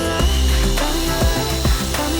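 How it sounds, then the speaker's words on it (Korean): A car polishing machine runs close by during an Impala polishing session at a polisher maker's training center, a loud steady motor whine and buzz with repeated rhythmic pulses and surges as the pad works. "저 옆에서는 광택 열심히 돌리고 있는데"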